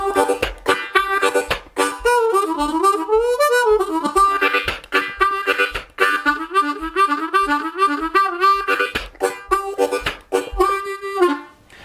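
A harmonica plays a quick, wailing melody with bent, sliding notes, loud and close, with no voices.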